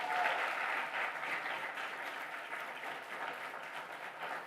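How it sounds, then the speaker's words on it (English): An audience at a women's business pitch competition claps steadily, a soft, even wash of many hands heard from a distance that carries on without a break. "you can clap"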